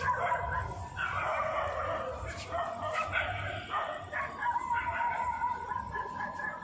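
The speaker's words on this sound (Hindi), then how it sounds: "तो इस टाइम पे बहुत सारे जो है ना, कुत्ते भौंक रहे हैं" Several dogs bark, yip and whimper in overlapping bursts throughout, some nearby and others farther off, above a steady background hum.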